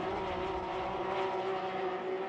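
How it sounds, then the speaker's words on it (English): Porsche Cup race cars at the Bikernieki Circuit in a racing video game, their engines a loud, steady, high-pitched drone that holds its pitch with only slight wavering, with no talk. "Yeah, I think I've got the cars too loud."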